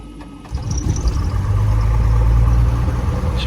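A Cessna 172F Skyhawk's piston aircraft engine starts up, cranking briefly and then catching into a steady, loud, close rumble that settles into an even running note.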